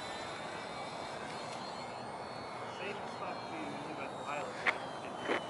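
A slow, sluggish radio-controlled model airplane flies outdoors on a first flight of the year, its engine a steady drone that stays in the distance under people talking, with a few brief louder bursts near the end.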